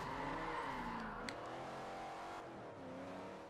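A C-Class car engine in Forza Horizon accelerating, a steady, strong revving drone that climbs in pitch with a brief gear-shift dip, heard alone at moderate loudness.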